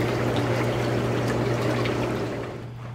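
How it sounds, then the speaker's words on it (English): Hot tub jets running with System Flush cleaner in the spa water, a steady loud rush of churning water with a constant low pump hum, fading slightly at the end. "Now we're gonna turn the jets on."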